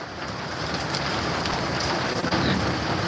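Hail and heavy rain pelting down in a violent storm outside a rural yard, a dense steady roar of impacts, loud and close, with no voices.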